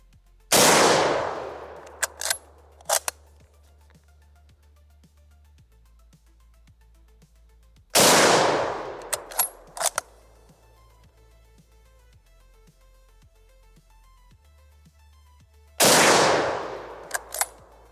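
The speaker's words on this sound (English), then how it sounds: "I'm loading up 3 rounds of PPU 150 grain here, and we're gonna shoot all 3" Three loud single shots from an RTI Lee-Enfield rifle firing PPU 150 grain rounds, spaced about eight seconds apart. Each sharp report fades into a long echoing tail and is followed by metallic clicks of the bolt being worked.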